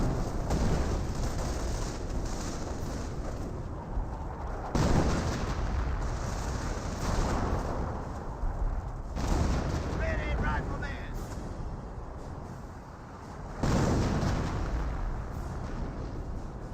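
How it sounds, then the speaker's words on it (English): A quad half-track in Company of Heroes fires away amid booming blasts and rapid gunfire on a battlefield, with someone commentating over the loud, continuous rumble. "Still got the quad half track firing away."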